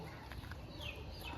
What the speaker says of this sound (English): The chicken is running away.